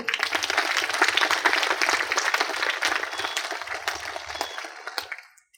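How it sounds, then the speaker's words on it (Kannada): Loud, dense applause from a seated audience at a meditation gathering, a steady wash of many hands clapping for several seconds before tapering off and stopping. "ಮಲ್ಲನಗೌಡ್ರಿಗೆ ಜೋರಾಗಿ ಚಪ್ಪಾಳೆ"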